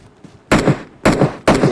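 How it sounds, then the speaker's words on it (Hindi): Gunfire in a mobile battle-royale shooter: a faint distant shot, then three loud, close bursts of short automatic fire spaced about half a second apart, with no talking. "देखो फायरिंग किया"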